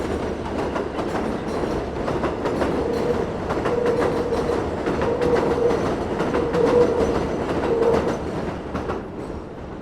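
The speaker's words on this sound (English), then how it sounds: "Here's an M train above me, leaving the Hewes Street station." An elevated M subway train leaving Hewes Street station in Williamsburg, Brooklyn, rumbles and clatters steadily overhead, rhythmic wheel clacks with a faint metallic squeal, loud and continuous.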